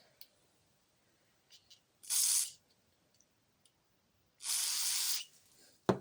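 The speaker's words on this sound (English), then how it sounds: "I'll spray this thing off a little bit here." Two short bursts of cleaner spray hiss onto a Poulan chainsaw, the second longer, separated by quiet with faint clicks and handling noises.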